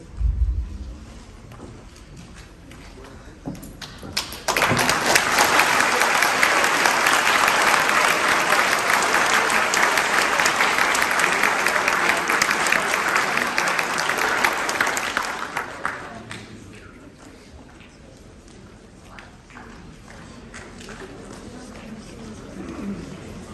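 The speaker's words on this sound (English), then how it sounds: "let's give a big round of applause" Loud applause from a large crowd at a Veterans Day ceremony swells, holds steady for about ten seconds, then fades to quieter background noise.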